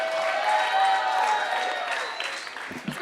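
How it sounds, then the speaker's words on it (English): Live audience at a San Diego comedy show applauding and cheering as a comedian comes to the stage, a dense, steady wash of clapping that tapers slightly near the end. "Start clapping right now"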